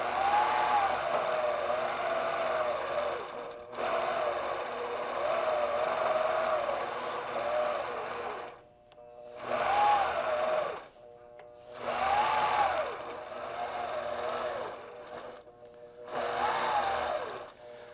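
A longarm quilting machine stitches in the ditch along quilt sashing, giving a steady whirring hum in long runs broken by short pauses where it stops and restarts.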